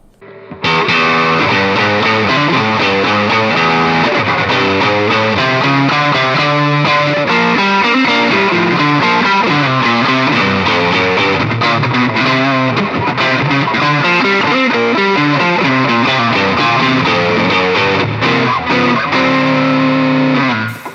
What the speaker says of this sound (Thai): กีตาร์ที่ทำมาแบบว่าเน้นกับการเล่นพวกแบบเสียงแตก